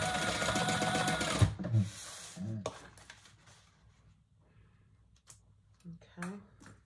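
A sewing machine bastes a D-ring strap onto a crossbody bag, a fast rattling stitch burst of about a second and a half, then quieter clicks and handling with someone talking over it.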